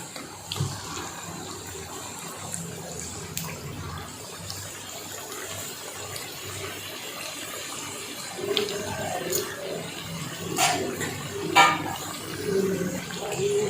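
Dough katori cups deep-frying in hot oil until golden brown, a continuous hissing sizzle with scattered pops and bubbling that swell slightly toward the end, heard at close range.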